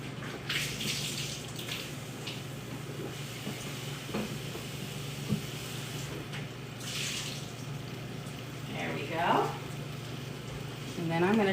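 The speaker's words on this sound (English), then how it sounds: "I'm gonna go give them a quick rinse because you can see these ones are a bit dirty" Baby bella mushrooms are rinsed under a running kitchen tap, giving a steady, close rush of water with splashing that shifts as they are moved, and brief bits of voice and clatter underneath.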